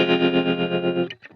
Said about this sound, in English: This is a really nice plugin that will give me this kind of tremolo.